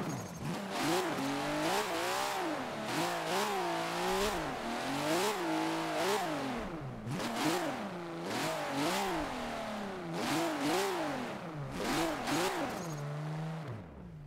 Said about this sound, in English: Has a very, very light flywheel, so it just instantly drops revs.